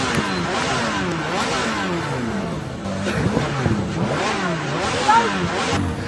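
A motorcycle revs repeatedly in wavering up-and-down surges as a youth spins it on one wheel on an Uttar Pradesh highway in daylight, under continuous narration.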